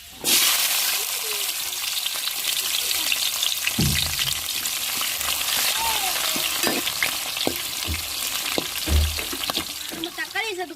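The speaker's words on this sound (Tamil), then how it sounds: "என்ன சூடாயிருச்சுங்க வெந்தயம் போட்டுக்கிறோம்" Fenugreek seeds sizzle and crackle steadily in hot oil in a pan, a loud continuous frying hiss with a few utensil clanks and stirring knocks over it.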